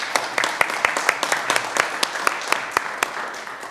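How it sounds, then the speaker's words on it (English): An audience at a city council meeting in Bastrop applauds with fairly sparse, distinct claps over a low room murmur, a handful of hands clapping unevenly. "Hoffman a round of applause."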